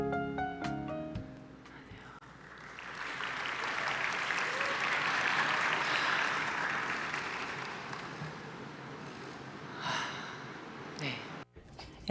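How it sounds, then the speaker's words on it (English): An audience at an Olympic talk welcomes volleyball player Kim Yeon-koung with sustained applause that swells, holds for several seconds, then fades, with brief noises near the end. "Please welcome her with a big round of applause."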